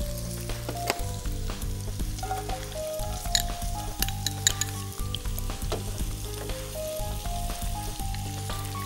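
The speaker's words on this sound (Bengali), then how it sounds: "এদিকে আমি পেঁয়াজ গুলো ভেজে নিচ্ছি" Onions frying in oil in a pan for homemade chilli paneer, a steady close sizzle with occasional stirring scrapes and a faint background hum throughout, no talking.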